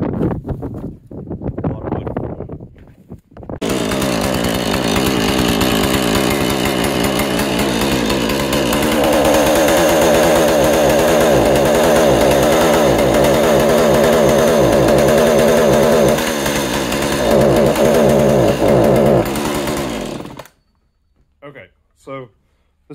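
A Husqvarna 435 chainsaw, freshly fitted with a new carburetor, air filter and spark plug, roars loud and close while cutting a dead pecan tree into firewood, its engine pitch rising and sagging under load for about sixteen seconds before cutting off.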